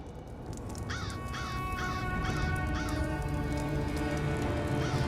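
A talking crow in The Elder Scrolls Online caws in a run of about six harsh, evenly spaced calls over a steady ambient background, with no talk.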